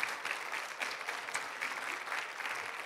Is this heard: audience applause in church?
yes